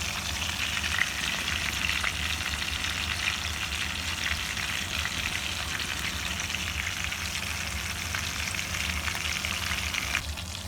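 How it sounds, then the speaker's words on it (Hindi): Fish fillets frying in hot oil in a pan give off a steady, dense sizzle that crackles evenly throughout, close up and with no talking. "दूसरी साइड से भी अच्छी तरह ये फ्राई हो जाएगी।"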